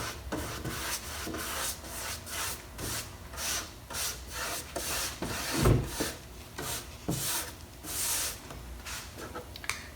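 A cloth rubs Dixie Belle's Best Dang Wax onto a wooden cabinet door in repeated back-and-forth strokes, a soft close-up scuffing rasp that rises and falls in an uneven rhythm, alone and fairly quiet.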